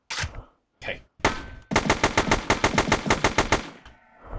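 Rapid automatic gunfire rattles in a loud, even burst of about twenty shots in the sci-fi shooter Kepler22, struck player cyborg taking hits, preceded by a few short separate blasts.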